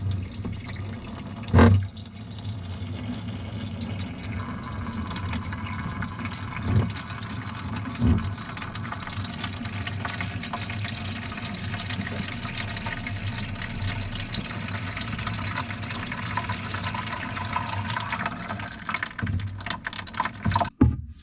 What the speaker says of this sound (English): I'm only going to turn the hose on just a little bit